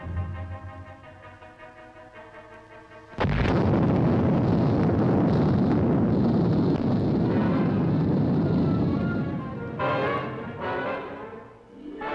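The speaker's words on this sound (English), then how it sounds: "Nuclear explosion, troop dispersal, assault, all finally integrated into a controllable operation." A low hum breaks into a sudden huge nuclear test blast at Yucca Flats, Nevada, which swells into a long, deep rumbling roar that slowly eases off.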